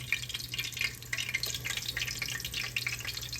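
Green tomato slices fry in hot oil in a home kitchen, a continuous crackle of dense sharp pops and bubbling at moderate volume with no talking.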